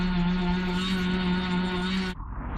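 An electric sander runs against Gore-Tex trousers, giving a steady droning motor whine that cuts off abruptly near the end, leaving near silence.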